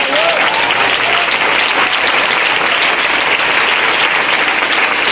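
Sustained audience applause at a religious gathering, dense and even clapping from a large crowd continuing steadily throughout, with no pauses.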